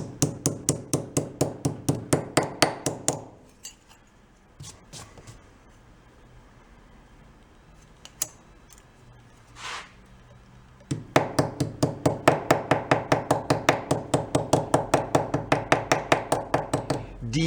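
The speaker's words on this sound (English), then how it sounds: "You can just smack it with a hammer." Hammer blows strike the caved-in cover of a broken portable ice maker, a fast run of sharp, evenly spaced metallic knocks, then a quieter pause with a few scattered taps, then another long rapid series of loud whacks.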